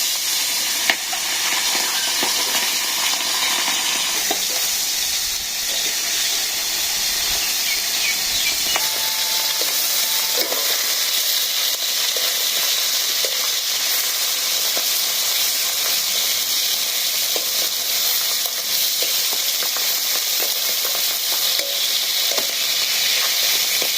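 Katla fish curry sizzles and fries steadily in a pan over a village cooking fire, a continuous loud hiss with occasional soft stirring clicks.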